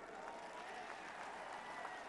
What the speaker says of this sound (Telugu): మీరందరూ పెద్ద ఎత్తున చప్పట్లతో నివాళులు అర్పించాలి.